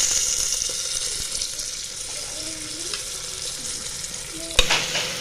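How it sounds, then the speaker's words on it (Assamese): Rice for pulao being stirred and fried in a pan, giving a continuous soft sizzle with scraping stir strokes throughout and a sharp knock of a utensil near the end. "এতিয়া মই ইয়াতে চাউলখিনি এড কৰি দিওঁ"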